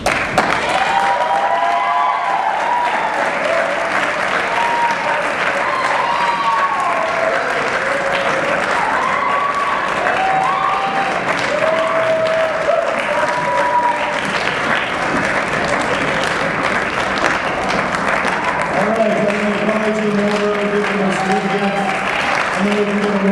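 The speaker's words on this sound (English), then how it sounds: "we can give them one more big round of applause" Sustained audience applause fills a high school theater awards ceremony as student directors come up on stage, with a voice speaking over the clapping throughout.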